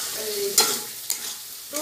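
Fried potatoes being stirred into a spice masala in a Bengali vegetarian kitchen, a steady close sizzle with three sharp scraping stir strokes spaced across the short stretch, no voices.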